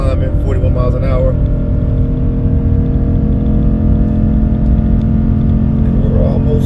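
A 3/4-ton gas pickup engine revs high near 5,000 RPM while towing an 11,000 lb travel trailer uphill over the Rocky Mountains, a steady loud droning roar throughout, with road and wind noise and someone talking over it.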